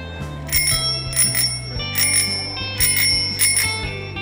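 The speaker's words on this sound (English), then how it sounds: "I heard that bell." A bright bicycle-style bell rings close and clear in quick double and single strikes, five bursts spread over a few seconds above a low steady tone.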